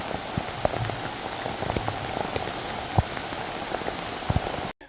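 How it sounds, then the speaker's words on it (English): Steady patter of rainwater dripping off trees after rain near Waterrock Knob, North Carolina, with scattered louder plinks over a constant wet background, cutting off abruptly at the end. "It's still dripping off the trees right now, but finally stopped raining."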